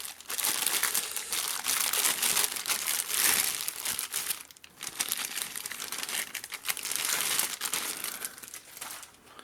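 Continuous close-up crinkling and rustling of plastic packaging, loud and uneven, with brief pauses as it is handled and pulled apart.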